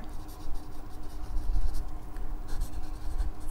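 A pen scratches across paper while someone writes out a ratio problem, making soft, close, continuous scribbling strokes with brief pauses.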